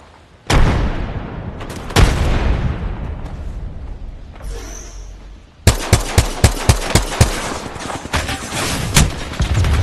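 Heavy weapons fire in the video game Apex Legends during a frag grenade throw: a loud blast and a rumbling stretch, then a rapid string of sharp, evenly spaced shots, all close and with no talk.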